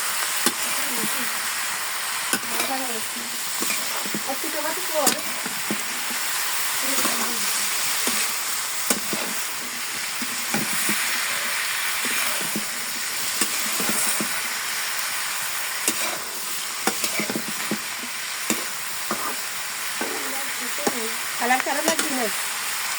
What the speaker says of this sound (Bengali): ঠিক আছে, সমস্ত তরকারিগুলা সিদ্ধ হইতেছে। তরকারি বলতে সবজি। আর একটু নেড়ে চেড়ে দেই আমি।